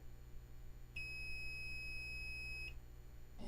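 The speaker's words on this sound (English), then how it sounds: "When I push down and it makes contact, my meter will beep." A multimeter's continuity beep sounds while testing a switch on a Macintosh keyboard, one steady high pure tone lasting nearly two seconds, moderately loud over a faint hum, then cutting off.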